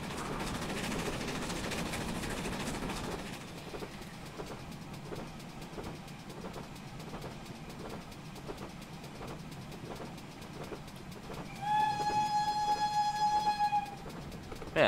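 A 1950s steam locomotive hauling the Torbay Express on the Riviera Line in Train Simulator chuffs in a steady rhythm over rumbling wheels, then sounds a sustained whistle near the end.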